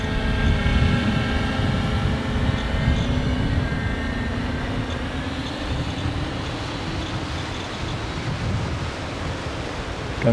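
FPV multicopter motors spun up under throttle, a loud, steady whirring roar with a droning tonal whine that holds constant for the whole stretch without any voices.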